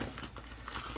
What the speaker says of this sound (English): It's just a carton. Let's unbox that.